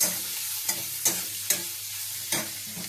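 Frying ingredients for an egg curry with potato hiss steadily in a pan, broken by four or five distinct scraping strokes of stirring at uneven intervals, close and clear with no talking.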